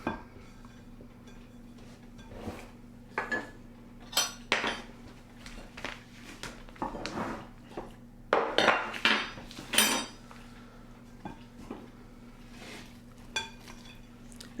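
Toffee and popcorn are stirred into cookie dough in a bowl, giving irregular close knocks, scrapes and clinks of a utensil against the bowl over a quiet background hum.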